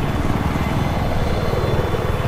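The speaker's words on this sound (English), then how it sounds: "I got eyes on an enemy helicopter." An enemy helicopter in Battlefield 4 sounds as a dense, steady rotor thump and engine roar, close and loud and continuous for two seconds, with no talking.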